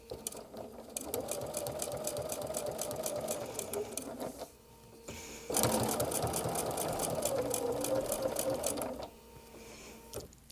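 Sewing machine stitching a machine-sewn quilt binding, running in two long steady bursts separated by a brief pause, with a close, loud, rapid mechanical rattle throughout.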